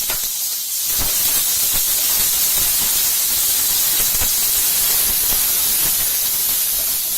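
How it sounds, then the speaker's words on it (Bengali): Chopped onion, two medium onions, drops into hot oil tempered with whole cumin seeds and bursts into a loud, close, continuous sizzling hiss after a brief quieter moment, with no voices. "এবার আমি পেঁয়াজ কুচি দিয়ে দিচ্ছি।"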